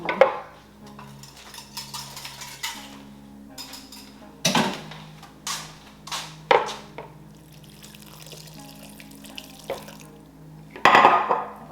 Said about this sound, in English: I'm gonna wash this off